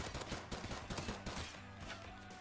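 Rapid gunfire bursts from a first-person shooter, Modern Warfare Remastered, likely an M9 pistol or MP5, crack in quick succession over low background noise, fairly faint and continuous throughout.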